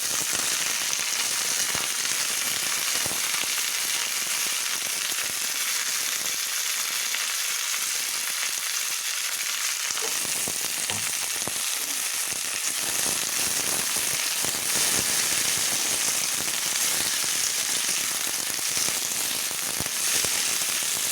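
Vegetables fry steadily in a pan for a Bengali moong and pea dal, a dense, continuous sizzle with occasional crackles and stirring clatter, loud and close throughout with no talking.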